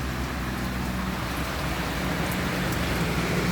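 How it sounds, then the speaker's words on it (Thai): Steady rain pours down without a break, a dense hiss of drops on a surface, with a low rumble underneath and no voices. "ฝนเนาะฝน"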